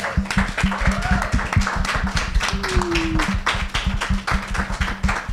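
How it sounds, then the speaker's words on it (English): An audience at a women's advocacy panel event in Pontiac, Michigan, claps steadily, a brisk, even patter of hand claps that continues throughout at moderate loudness. "Can we get a round of applause?"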